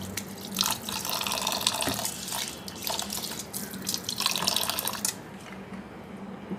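Tap water runs steadily into a sink while rice is being washed, splashing and gurgling with uneven bursts as the grains are stirred, then thinning out near the end.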